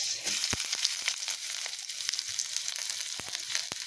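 Garlic and onion frying for a bitter gourd vegetable dish, a bright continuous sizzle close by with a few sharp clicks and taps scattered through, no talking.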